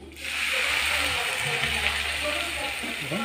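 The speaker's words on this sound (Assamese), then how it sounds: "এতিয়া অলপমান পানী দি দিম" Water splashes and hisses into a hot pan, a continuous frying sizzle with bubbling, close and fairly loud throughout.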